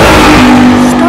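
A voice imitates a car engine revving with a loud, close, sustained buzzing drone lasting about a second, with a slight rise in pitch partway through.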